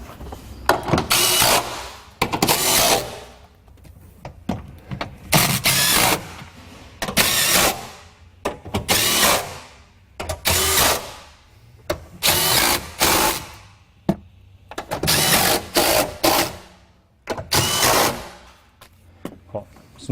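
A power tool runs in repeated short bursts, about a dozen over twenty seconds, as it tightens bolts on the battery cover of a Ford Escape hybrid, with brief pauses between each run.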